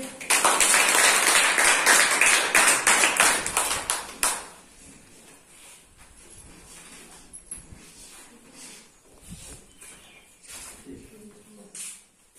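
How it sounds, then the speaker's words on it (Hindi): Children in a classroom clap their hands in fast, loud, ragged applause for about four seconds. It then stops abruptly, leaving quieter room sounds and scattered voices. "ताली बजान के"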